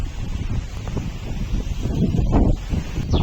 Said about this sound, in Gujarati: આ દેખો પવન તો આવે છે અત્યારે હાલમાં